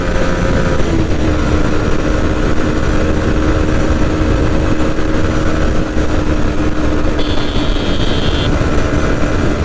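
A Yamaha MT15 motorcycle running hard during a top speed test, its engine a loud continuous drone with a steady whine and wind rush, no talking heard.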